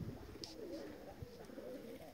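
Pigeon cooing among a rooftop flock, low soft murmuring coos running continuously, moderately close, with a faint higher chirp over steady outdoor background.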